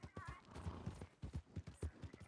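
A horse gallops in Red Dead Redemption 2, its hooves thudding in a steady, close, rhythmic beat with light game ambience behind it.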